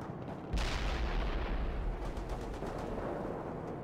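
Heavy gunfire and artillery booms from the World in Conflict video game, a loud sustained barrage that kicks in after a brief quieter start and rumbles on with repeated blasts.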